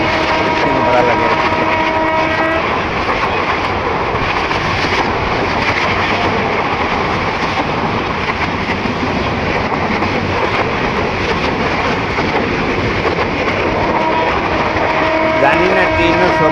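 A passenger train running on the Sylhet to Dhaka route, heard from inside as a loud, steady rumble and roar with faint rhythmic clatter, continuous throughout.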